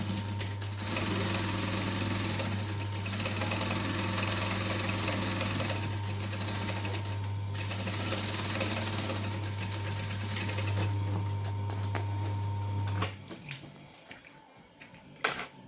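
Sewing machine basting a bag lining piece around its edge, a steady close humming motor with rapid needle rattle that runs for about thirteen seconds before stopping, followed by a few light handling clicks.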